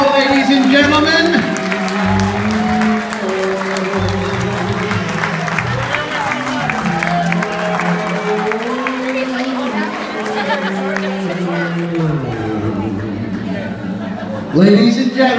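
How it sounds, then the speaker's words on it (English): Wedding guests applaud and cheer for a long-married couple, a sustained wash of clapping and crowd chatter running throughout, mixed with voices and a tonal, musical backdrop that rises again near the end. "please give it a big round of applause to the happiest couple on the planet."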